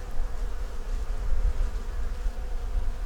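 Honey bees buzz in a dense, steady drone from an opened hive with frames of brood, heard up close and continuously without talk.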